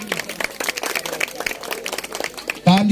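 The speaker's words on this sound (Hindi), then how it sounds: "तो हम चाहते हैं कि अगुआ के लिए एक बार दिल खोल कर तालियां बजाइए।" Audience clapping at a wedding ceremony in Chandauki, Phulpur, a brief burst of scattered applause from a crowd, with a voice cutting in at the end.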